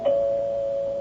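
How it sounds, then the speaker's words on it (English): A single doorbell tone rings out clearly in a radio drama scene, a clean sustained ding that holds steady and slowly fades, alone with no voices over it. "Finally, the doorbell rang."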